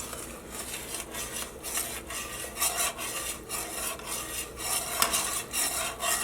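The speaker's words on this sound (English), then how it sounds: "You just stir occasionally." A boiling butter mixture for no-bake peanut butter oatmeal cookies is stirred in a pot with steady, rhythmic scraping strokes and a soft bubbling hiss, close and moderately quiet, with no talking.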